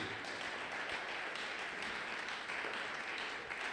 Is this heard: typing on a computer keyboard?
no